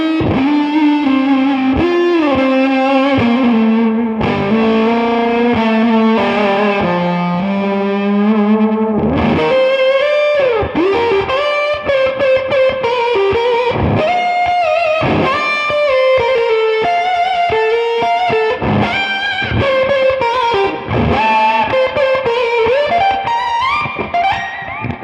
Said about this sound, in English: you can hear a slightly gated fuzz tone, but it sounds really cool.